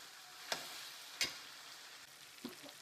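Spices frying in a pan on a stove are stirred, a faint steady sizzle with three soft scraping strokes spaced apart, quiet and close with no talk.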